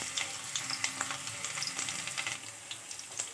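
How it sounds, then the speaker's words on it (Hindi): Garlic and onion sizzle in hot oil in a kadai for a home-cooked aloo methi sabji, with a dense, steady crackle of small pops and spits up close and no voices. "कढ़ाई में तेल गर्म हो चुका है, मैं इसमें लहसुन और प्याज डाल रही हूँ।"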